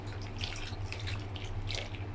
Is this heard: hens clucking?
no